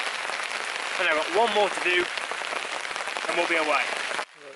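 Heavy rainstorm drumming as a dense, constant patter of drops close around, with someone talking over it for most of the stretch before the noise drops suddenly at the end.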